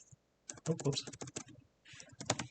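Quick bursts of typing on a computer keyboard while writing Python code, close crisp key clicks in two short runs with a brief pause between.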